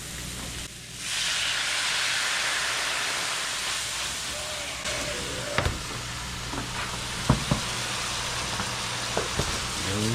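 Wine poured into a hot pan of veal parmigiana fixings bursts into a loud, steady sizzle that fills the whole stretch, with a few sharp clinks of utensils and soft movement over the hiss.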